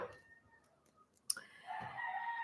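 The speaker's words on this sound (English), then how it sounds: "we do hear the roosters." Roosters crow outdoors, not far off: a short sharp click and clucks, then a long, drawn-out cock-a-doodle-doo that fills the second half, fairly quiet overall.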